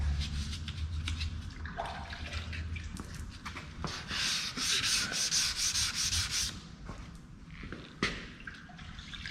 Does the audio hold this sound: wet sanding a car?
yes